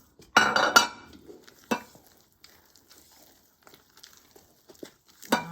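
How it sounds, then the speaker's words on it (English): Gluten-free chocolate quinoa cake batter stirred by hand in a bowl: a loud scraping burst at the start, then a couple of short spoon knocks against the bowl with quiet gaps between them. "Give it a good stir"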